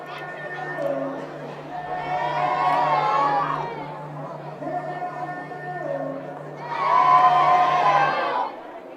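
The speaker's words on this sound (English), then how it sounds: "Lively crowd at Jimmy John's Field, trying to get into this one" Baseball crowd at Jimmy John's Field during a Beavers vs Hoppers game, a steady murmur of chatter swelling twice into louder cheers and shouts, with a low constant hum beneath.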